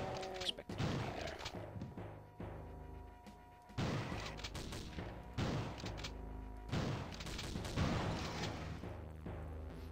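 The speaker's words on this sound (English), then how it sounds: "I'm impressed a shotgun can do that kind of work at all." Shotgun blasts in a Doom map, heavy booming shots landing every few seconds with thudding impacts and explosive game noise between them.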